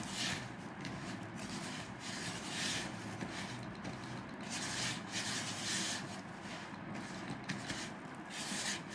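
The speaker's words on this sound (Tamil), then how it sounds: "அதோட சுகர் 90 கிராம் எடுத்திருக்கேன். இது ரெண்டுத்தையும் நல்லா மிக்ஸ் பண்ணிக்கணும்." Unsalted butter and sugar are mixed by hand for chocolate cookies, a soft, steady rubbing and scraping close by that repeats in a loose rhythm with no talk.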